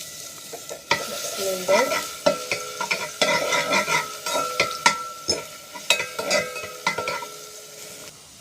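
Garlic sizzling in oil in a pan for pasta sauce, with repeated scraping stirs and utensil clacks against the pan in an irregular rhythm; a voice briefly speaks over it.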